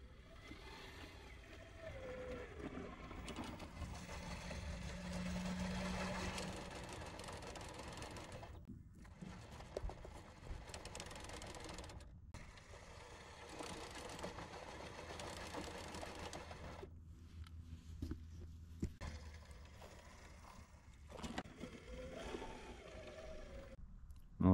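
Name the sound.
1/10 scale RC crawler trucks driving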